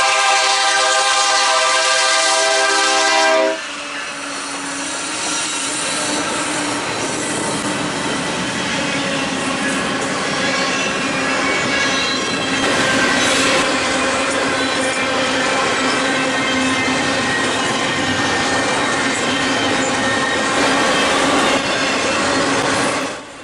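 CN freight train Q115, an all-intermodal train led by an ES44DC diesel locomotive with a Dash-8 cowl and a Dash-9 behind, passes by heading south: loud engine roar at first, then a long continuous rumble and rattle of cars rolling past.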